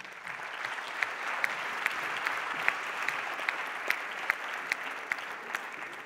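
Steady applause from a theatre audience, dense and even clapping sustained throughout with a few sharper claps standing out, heard from within the hall.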